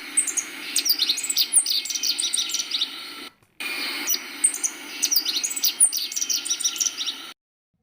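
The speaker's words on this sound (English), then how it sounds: "The user will also be able to listen to the bird call clip which he has recorded." A recorded bird call played back through a phone app: repeated bright chirps and tweets in quick bursts over a steady hiss, with a brief gap partway through before the calls resume, then cutting off abruptly.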